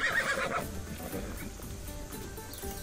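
A horse in Assassin's Creed Odyssey whinnies once, near and loud, its neigh clear at the start and then fading into low game ambience.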